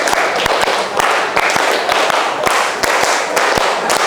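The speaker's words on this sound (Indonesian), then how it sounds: "Tepuk 1, tepuk 2, tepuk 3, tepuk 4, tepuk 5." A group claps in rhythmic counted sets during a classroom clapping exercise, sharp, close hits coming in repeated bursts over a busy background.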